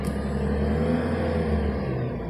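A 1990s car engine runs and is given a little throttle, a steady loud low rumble with a smooth, even drone throughout, close up and without talk.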